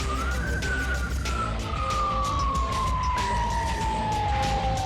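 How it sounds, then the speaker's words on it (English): Police car siren wails in a slow, falling sweep during a traffic stop, loud and close over the rumble of the moving vehicle, with no voices. "the officer flips on his siren."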